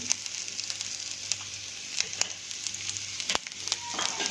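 Roasted chana dal and chopped ginger sizzling in a pan for quinoa upma, a soft continuous close frying hiss with a few brief clicks and stirring taps.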